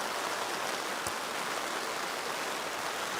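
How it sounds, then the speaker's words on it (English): Heavy rain pouring down steadily outdoors, a dense, even hiss of water filling the whole clip with no voices. "we've just taken another break because the rain came down again heavy"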